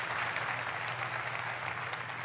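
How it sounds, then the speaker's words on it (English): Steady applause from a large press conference audience for a drumline performance at the EA Play event, a dense continuous clatter of clapping at moderate distance with no voices over it. "Random applause for the drumline, guys."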